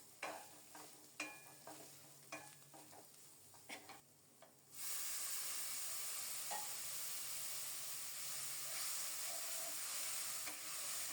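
A spice paste of turmeric and chilli powder hisses into a loud, steady sizzle in the pan once a splash of water goes in, after a few seconds of quieter stirring and clinking.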